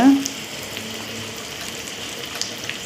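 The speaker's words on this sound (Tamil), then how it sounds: "இது பார்க்க நல்லாவே ஃப்ரை ஆகிடுச்சுங்க" Potatoes fry in a pan with a soft, steady sizzle and faint scattered crackles, heard close but fairly quiet after a brief sound at the start.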